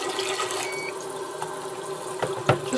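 Tap water runs steadily from a kitchen faucet fitted with a purifier, a close and continuous hiss with a few splashy bumps near the end.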